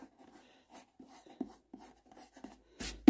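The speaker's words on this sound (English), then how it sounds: "Rub off that excess glue just using my finger." A fingertip rubs and presses excess glue off a furniture transfer in short, soft dry strokes, quiet and close, with a sharper scuff at the end.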